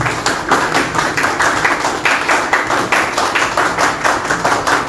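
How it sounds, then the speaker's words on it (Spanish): An audience at a conference on infrastructure in Peru claps steadily to welcome a speaker, dense and loud with a slightly rhythmic pulse, and almost no talking. "Lo recibimos con fuertes palmas."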